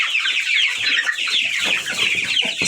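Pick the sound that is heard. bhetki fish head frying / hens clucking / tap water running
hens clucking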